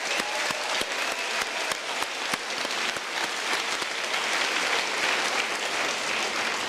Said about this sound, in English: can we give families and all the support structures in this room a special round of applause?